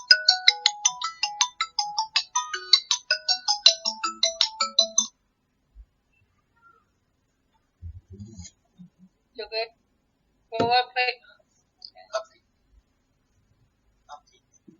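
A phone ringtone for an incoming call plays as a bright, repeating electronic melody for about five seconds, loud and close. It then stops, leaving faint scattered sounds and brief bits of speech.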